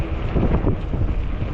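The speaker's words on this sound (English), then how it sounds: "very windy day today" Strong wind gusts roar steadily across the microphone during a fat-tire e-bike ride on a cold day in a parking lot, a constant loud buffeting rumble with no voices.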